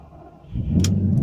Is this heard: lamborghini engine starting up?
yes